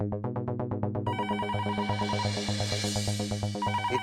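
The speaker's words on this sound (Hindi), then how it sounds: "सुबह सुबह फोन करके कौन परेशान कर रहा है" A telephone rings steadily for the whole stretch, its rapid electronic bell trill repeating in close, loud bursts with no talking over it.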